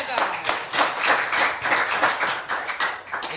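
Steady applause from an audience, dense overlapping hand claps filling the whole stretch at moderate loudness with no voices on top.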